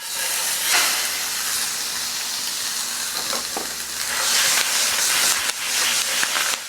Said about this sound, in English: Let's introduce some ground beef to our pan.